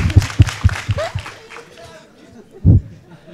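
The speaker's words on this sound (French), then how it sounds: "Allez, on applaudit aussi." Brief scattered clapping from a small audience at a French talk, a few separate claps in the first second then a louder burst near the end, mixed with chatter and murmuring voices.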